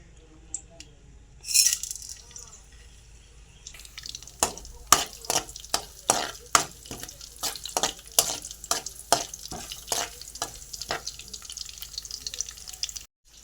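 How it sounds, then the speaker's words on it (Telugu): Garlic, urad dal, mustard seeds and cumin hitting hot oil, a burst of sizzle followed by a long run of sharp crackling pops and spatters, fairly close, with no voices. "ఎల్లుల్లిపాయలు, మినపప్పు, ఆవాలు, జీలకర్ర వేసేసుకుందాం."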